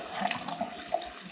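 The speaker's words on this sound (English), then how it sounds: "you're just gonna fill it up until water starts running through the opening of the pump" Water runs and splashes steadily as it fills the opening of a Pentair Intelliflo variable speed pool pump during installation, a soft continuous trickle with light gurgles.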